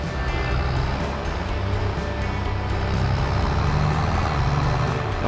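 Tractor engine in the farming game Farming Simulator 22: a steady low diesel drone with a faint rhythmic pulse, running continuously and fairly loud with no one speaking.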